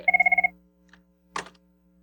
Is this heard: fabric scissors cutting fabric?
no